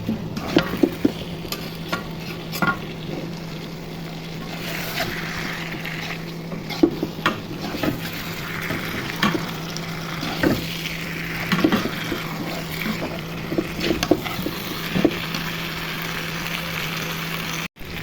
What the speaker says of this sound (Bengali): লবঙ্গ তেজপাতা দারচিনি একসাথে দিয়ে দিব নেড়ে ছেড়ে দিব নেড়ে ছেড়ে ভালো করে কষিয়ে নিব